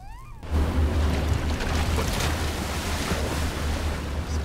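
A sailboat moving across open water in wind, with a steady wash of waves and surf against the hull and gusty wind noise buffeting the microphone throughout, after a brief quieter opening moment.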